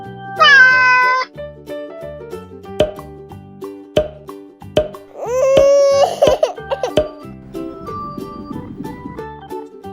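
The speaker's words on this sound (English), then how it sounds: "Cat." A cartoon cat meows twice, clear and close, over bouncy children's music with light plopping beats.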